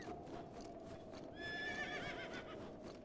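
A horse in the video game Breath of the Wild gives a loud, wavering neigh over a steady bed of hoofbeats and game ambience, the whinny rising midway through the short stretch.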